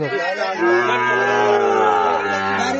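A loud, drawn-out cow moo close by, low and harmonic, with faint crowd murmur in the background, at a cattle market in a border area.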